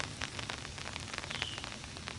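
Steady rain falls on a garden on a June morning, a soft continuous patter and hiss with scattered nearby drops, fairly faint and even throughout, no voices.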